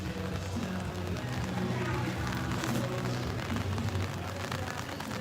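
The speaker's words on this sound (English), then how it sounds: "All right, let me grab my umbrella. It's still raining a little bit." Light rain pattering steadily on an umbrella while walking through a neighborhood in Medellin, a dense, continuous close hiss with faint street sounds underneath.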